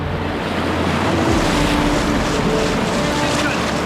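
Big whitewater rapids on a wild Patagonian river roar loudly and continuously around a boat, with rushing water and wind buffeting close to the microphone, and voices occasionally cutting through.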